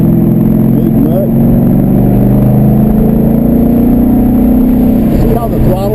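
A race car at a motorsport track day revs with softened throttle response, a loud, steady engine drone rising and falling gently in pitch close by, with occasional faint voices.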